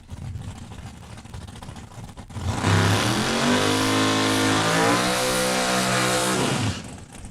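Mustang drag car at Saskatchewan International Raceway in Saskatoon fires up and roars loudly after a quiet start, holding a steady, harmonic-rich engine drone near the lanes for several seconds before easing off.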